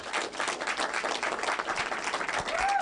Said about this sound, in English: Can we give the person a clap?